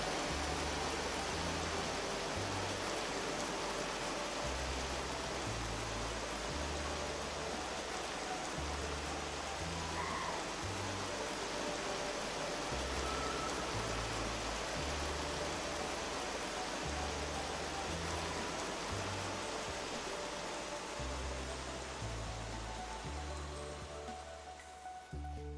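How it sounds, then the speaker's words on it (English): Hail falls in the survival game Vintage Story as a dense, loud, continuous hiss and clatter, with a low rhythmic music pulse underneath and no talking. "It's hailing over here."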